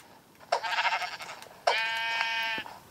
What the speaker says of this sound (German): Ich sehe ein Schaf.